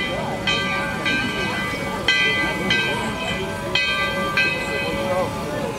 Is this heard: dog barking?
no